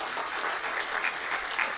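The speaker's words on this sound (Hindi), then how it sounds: "ज़ोरदार तालियां बजाएं" Audience applause at a book release event for a biography of Sharad Pawar, steady dense clapping filling the whole moment at moderate distance, with no voices over it.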